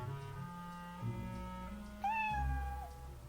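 A cat meows softly in a few short, rising and falling calls, close but quiet, under a faint sustained musical tone.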